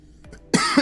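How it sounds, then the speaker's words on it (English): A person coughs hard into a close microphone during a game livestream, with a few faint quiet sounds first, then a loud burst of harsh coughing and throat clearing. "It's not really that pleasant just to hear someone cough away into a mic, is it?"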